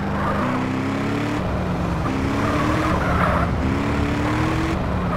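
Car engine in the video game GTA San Andreas, loud and steady, rising through gears with repeated upward revving sweeps under continuous road and tire noise.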